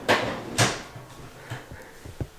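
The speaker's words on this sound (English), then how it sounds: "here's one of the first deep drawers for the bigger tools" A deep tool-chest drawer for larger tools in a utility room slides open and shut, giving two firm knocks followed by lighter rattles and clunks, close by and with no voices.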